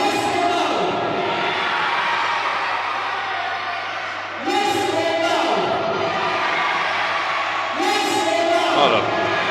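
A darts crowd in Medway roars and jeers loudly in waves, with cheering and whoops that surge several times over a constant crowd din, and shouting voices mixed in.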